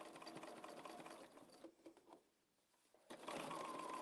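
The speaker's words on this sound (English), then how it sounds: "So I'm gonna sew this binding on." A sewing machine stitches a quarter-inch binding onto a quilt edge with a Schmetz 9014 needle, a steady mechanical whir that dips and pauses midway before running again at full speed, close and alone.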